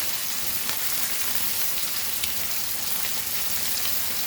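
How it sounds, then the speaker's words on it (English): Goan hilsa (pedve) fish frying crispy in a pan, a dense, even sizzle of hot oil crackling steadily throughout, close and alone without voices. "But see that you fry this fish crispy"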